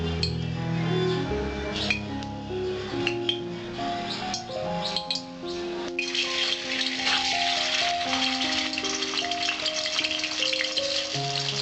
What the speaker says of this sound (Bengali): পাবদা মাছ আমার একটুখানি ঢাকা দিয়ে দিয়ে হালকা করে ভাজতে হবে।